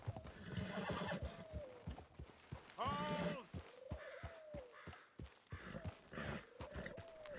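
Horses in the Red Dead Redemption 2 video game, hooves clip-clopping in a steady rhythm with repeated loud whinnies and snorts, close and lively, with no talk.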